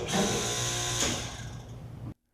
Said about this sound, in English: a SureStart is installed on the same standard single-phase 7-horsepower compressor